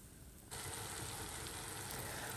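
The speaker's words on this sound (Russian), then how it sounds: "Положила на сковородочку вместе со сливочным маслом, чтобы она была с корочкой красивая" Liver sizzles in butter in a frying pan, a quiet crackle that jumps louder about half a second in and then holds as a steady frying hiss, with no voices.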